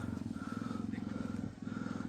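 A motorcycle engine runs close by at a steady, throbbing idle outside the fenced main gate of a jungle camp at night, with a brief dip in level near the end.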